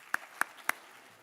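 Three sharp, evenly spaced claps ring out in a high school athletic awards ceremony hall, a quiet audience pat-clap cadence with brief silence between each beat.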